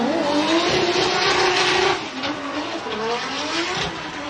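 Formula Drift car at Okayama, Japan, drifting through a qualifying run, its engine roaring loud and close with sustained tire squeal, revs dipping slightly partway through and then building again.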